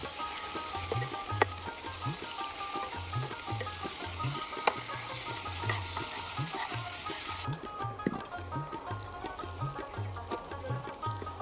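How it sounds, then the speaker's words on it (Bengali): A ginger, garlic and green chilli paste is stirred in a hot frying wok, with a spatula scraping in a steady repeating rhythm over a constant sizzling hiss. "এরপর আদা, রসুন, কাঁচা লঙ্কার পেস্টটা কড়াইয়ে দিয়ে ঘাঁটতে থাকবো।"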